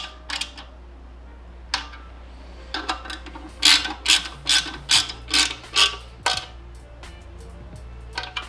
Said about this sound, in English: I have this little tiny 2-finger ratchet just for things like this.